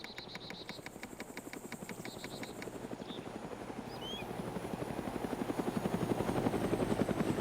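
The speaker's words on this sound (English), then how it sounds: "And I'm hearing a chopper just floating nearby." A helicopter in the ArmA video game flies nearby, its rotor producing a steady rhythmic chopping thump that grows gradually louder as it approaches, with no talking over it.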